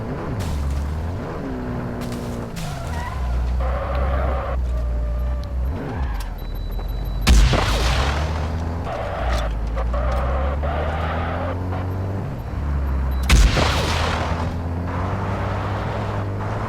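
In Call of Duty, a rocket explosion hits a piloted vehicle. Two sudden, loud blasts burst out several seconds apart over a continuous droning engine hum.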